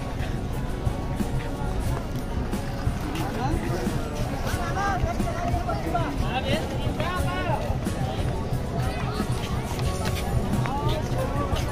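Dense crowd babble fills the Varanasi ghats during Dev Deepawali preparations, a constant loud hubbub of many voices with footsteps and scattered clatter throughout.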